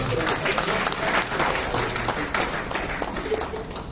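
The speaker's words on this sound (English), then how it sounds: "a round of applause for Baba" Steady applause from a large audience at a memorial lecture, dense continuous clapping filling the room for the whole stretch, with some crowd murmur mixed in.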